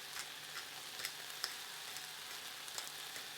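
Bacon and onion fry in a pan with a soft, steady sizzle dotted with small crackles and pops, quiet and close.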